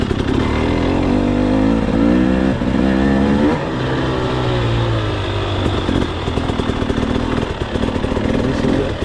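A dirtbike engine revs in short throttle blips while the rider slows to hop a log, its rising and falling drone loud and close, with no talk over it.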